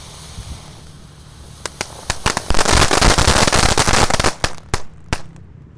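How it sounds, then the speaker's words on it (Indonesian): A 4-inch conical firework fountain with crackling balls is lit outdoors: a low hiss swells into a dense, loud spray of sharp crackling pops lasting a few seconds, then dies back to scattered snaps. "kalau ini konik fonten ukuran 4 inci guys. Yang ini ada bola-bola prateknya. Kita nyalakan."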